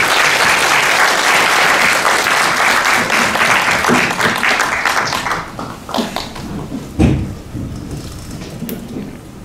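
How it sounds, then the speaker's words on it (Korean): Loud, dense applause from a church leadership retreat audience welcoming a pastor to the stage, strong at first and then thinning into scattered claps and a few louder isolated ones as it dies away. "큰 박수로 환영해 주시면 감사합니다."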